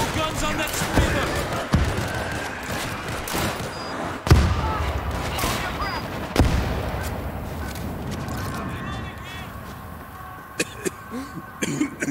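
Gunfire in World War Z rattles through a zombie fight, with sharp shots and bursts popping at irregular intervals among clatter and game effects, while voices shout commands over the action.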